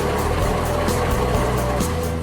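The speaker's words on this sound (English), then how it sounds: "look, here comes a garbage truck" A garbage truck drives past on the road, giving a steady loud engine rumble with a low droning hum throughout, mixed with background music.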